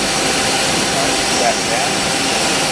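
A 2005 Mori Seiki MT1500SZ CNC lathe running its main spindle at 2000 RPM, a loud, steady broadband whir and hum filling the machine shop without pause.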